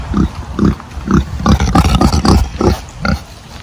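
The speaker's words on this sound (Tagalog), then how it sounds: "Yan, baboy natin." A pig resting in the shade of coconut palms on a provincial farm grunts repeatedly in short, close, loud bursts, settling into a quicker run of oinks toward the end.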